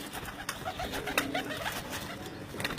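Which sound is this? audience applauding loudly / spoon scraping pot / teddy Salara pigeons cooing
teddy Salara pigeons cooing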